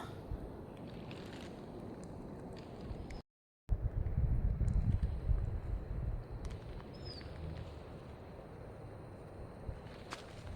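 Wind blows outdoors near a hill, a steady rushing and buffeting noise across the microphone. It cuts out briefly, then returns with a stronger low gust before easing back to a constant hiss.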